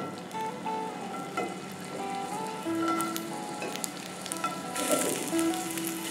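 Sweet potato slices sizzling on an oiled griddle with a pinch of salt, a steady close frying crackle with soft pops and a few clinks of utensils.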